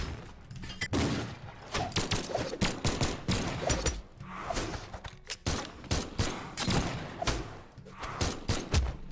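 Rapid bursts of gunfire in the Brawlhalla platform fighting game, sharp repeated shots in quick clusters with thuds and mechanical clicks, fairly close and dense throughout.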